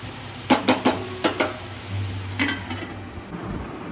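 Metal lid clattering onto a pot of chicken that has released its water, a string of sharp clanks in quick succession followed by a few more knocks, over a low steady hum.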